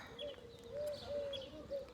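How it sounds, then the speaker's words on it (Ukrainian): Birds call outdoors in a quiet, shady spot that feels like a forest, with a few brief chirps and soft coos repeating at a moderate distance over low background hiss. "А птахи всіки тут, як у лісі десь."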